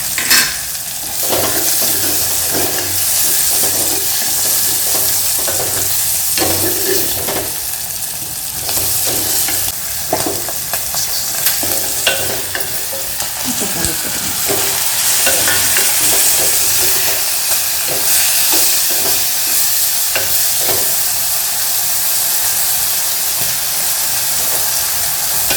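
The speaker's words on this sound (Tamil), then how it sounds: "இந்த எண்ணெயில் வறுபடும் போது கொஞ்சம் வெடிக்கும்." Green manathakkali (black nightshade) berries frying in hot oil for kuzhambu, a loud continuous sizzle with scattered sharp pops and crackles and occasional stirring scrapes throughout.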